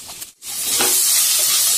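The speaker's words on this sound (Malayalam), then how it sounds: "അപ്പൊ നമുക്ക് അതിലേക്ക് അരിഞ്ഞു വെച്ചിരിക്കുന്ന സവാള ആഡ് ചെയ്ത് കൊടുക്കാം." Sliced onion hits hot oil in a pan, starting with a brief soft scrape, then a sudden loud, steady, hissing sizzle that carries on without talk to the end.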